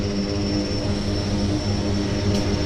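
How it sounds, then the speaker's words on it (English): A de Havilland Twin Otter floatplane at Vancouver Harbour starts its propeller engines: a steady, close turboprop drone with a high whine and layered low hum, continuous and even throughout. "the Twin Otter starting engines, so good timing"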